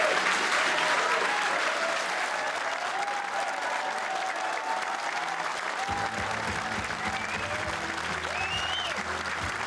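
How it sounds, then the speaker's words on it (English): Party faithful at a national party conference applaud and cheer a leader's speech in sustained, dense clapping with scattered whoops rising over it, loud and continuous throughout. "enjoying the applause and cheers from the party faithful"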